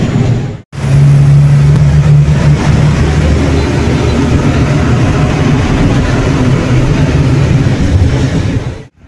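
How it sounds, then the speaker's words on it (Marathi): An MSRTC state transport bus pulls away from Poladpur, its engine a loud, steady low roar with a droning hum, heard close from inside the moving bus for several seconds. "सो फायनली आपली गाडी सुटली इकडे पोलादपूरवरून।"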